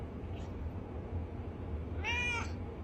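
A cat meows outdoors, a single clear meow near the end of the clip, heard over a steady low background rumble with no one speaking.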